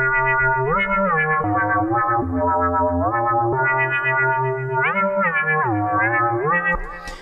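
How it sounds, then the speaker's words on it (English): A synthesized lead line from Ableton's Operator FM synth, run through a delay and a hybrid reverb, plays a stepping, gliding melody of sustained bright tones with echoing tails, loud and alone. "So now I have an operator with a delay and a hybrid reverb after it, right?"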